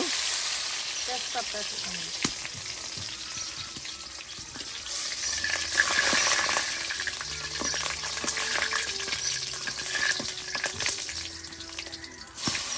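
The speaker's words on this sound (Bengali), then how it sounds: "এই দেখুন আর শুকনা মরিচ বেজে নেওয়া হয়েছে। আর এখন পাঁচফোড়ন দেওয়া হচ্ছে।" Dried red chillies and panch phoron fry in oil for a steady, moderate sizzle. Scattered clinks and stirring accompany it, with faint background voices in a busy outdoor cooking spot.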